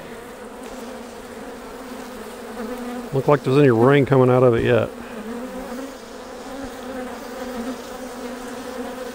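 Honeybees from an agitated hive in western Oklahoma drone continuously and close by, while someone talks briefly midway over the steady buzz.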